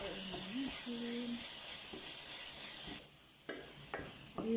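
Moussaka ingredients sizzle and hiss in a hot pan while being stirred, a steady frying crackle under a person talking, with a few faint scrapes of the utensil near the end.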